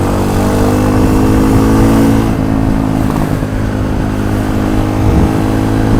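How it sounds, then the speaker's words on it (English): A small Honda CRF250L dual-sport motorcycle engine runs steadily and close by on a city street, with a continuous mid-pitched hum and low rumble that dips briefly partway through. "this is just a beautiful little motorcycle"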